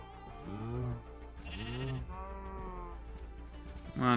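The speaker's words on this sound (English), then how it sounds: "Come here, gray sheep." Sheep in Minecraft, running the GregTech: New Horizons modpack, bleat several times in a row, clear and close, with short pauses between each wavering call.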